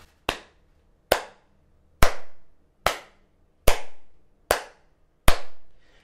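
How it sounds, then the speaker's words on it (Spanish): Seven sharp, separate hand claps, done as a warm-up before practice, ring out alone at a slow, slightly uneven pace, each one a crisp, loud snap with a short room echo. "ahora vamos a comenzar a aplaudir"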